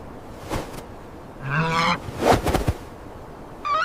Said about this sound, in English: Dozens of geese hissing, wings beating, diving at it from every side in a single furious wave.